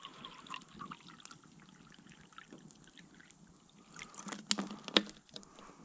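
Water is poured into a cooking pot for rice at an outdoor camp in English farmland, a soft trickling splash that builds toward the end, close and fairly quiet, with no talking.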